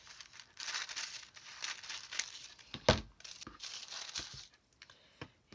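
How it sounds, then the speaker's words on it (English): Tim Holtz collage paper being cut to length, giving dry crisp crinkling and rustling with one sharper snip partway through, close and quiet. "I'm just going to cut off the length of this paper."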